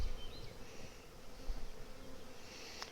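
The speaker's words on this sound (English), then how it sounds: "There's bees everywhere." Honeybees swarming around an open hive, a steady close buzzing hum filling the air with individual bees zipping past, no voices.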